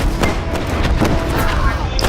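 Gunfire and explosions from enemies in a World War I themed Roblox war game, repeated booming shots over a dense, loud battle din lasting the whole short clip.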